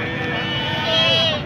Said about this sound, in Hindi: यहाँ ये एक बकरी है बहुत ही खूबसूरत माशाल्लाह, देखें।